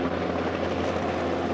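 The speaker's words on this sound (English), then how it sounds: "I've seen helicopters coming in and landing." A Coast Guard helicopter over an oil-spill beach makes a steady, loud rotor and engine drone, close and continuous with no voices.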